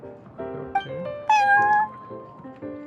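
A cartoon cat in Genshin Impact meows several times, short chirpy calls followed by a longer, louder drawn-out meow, close and clear over a soft musical background.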